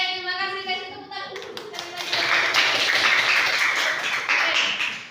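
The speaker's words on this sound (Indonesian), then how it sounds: "Kasih tepuk tangan." Classmates applaud in a school English lesson, breaking into a loud burst of clapping right after a voice finishes speaking. The clapping swells into a dense, sustained patter and then begins to fade.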